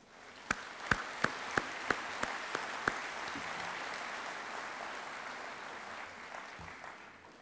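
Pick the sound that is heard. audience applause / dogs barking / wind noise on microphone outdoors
audience applause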